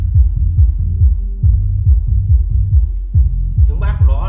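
A Canadian Mirage FRX-S10 subwoofer with a 25 cm driver thumps out deep bass in a steady throbbing pulse, loud and close, with a brief higher musical burst near the end.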